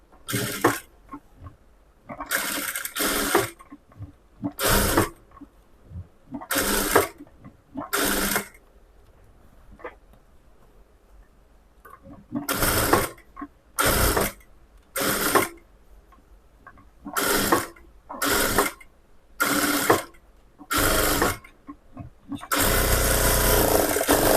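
A sewing machine stitches a lining blouse in short, loud bursts of whirring with brief pauses between runs. The final run is longer, and the room falls nearly silent between stitches.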